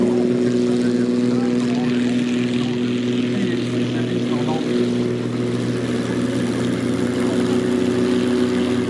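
A propeller warplane takes off at the 2016 La Ferté-Alais air show with a World War II theme. Its engine holds a loud, steady, droning hum throughout, and a commentator's voice runs beneath it.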